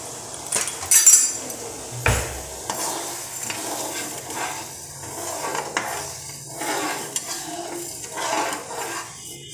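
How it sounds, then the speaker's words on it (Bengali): Water and sugar being stirred in a pot for moong dal laddu syrup, with close spoon scrapes and knocks against the metal, a few louder clanks and a soft bubbling background. "এবার একটুখানি নেড়ে নেব।"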